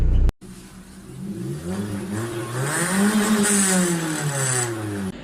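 A Mitsubishi Pajero SFX engine revs up and down in smooth, rising and falling swells, loud and close, with no talking.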